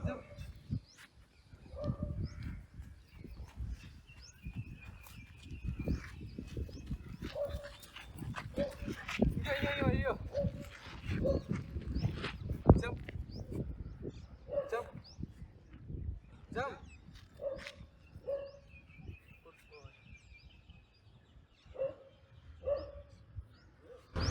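A dog barks in short bursts at a distance, repeated several times under ongoing conversation and outdoor background noise.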